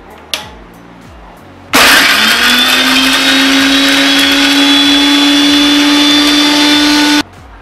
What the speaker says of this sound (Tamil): இப்போ நான் நைஸா அரைச்சுக்கிட்டேன் பாருங்க நல்லா நைஸா அரைஞ்சிருச்சு